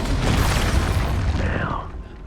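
An Expulso spell explosion from the video game Hogwarts Legacy: a loud, dense blast roaring across the whole range, holding strong for about a second and a half before tailing off into a fading rumble.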